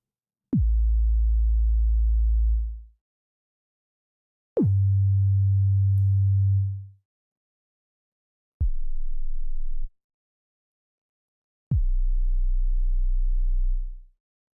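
A synthesized kick drum from the Surge XT synth with a long hold, four deep booming hits each sustaining a low tone for one to two seconds before fading, separated by silence.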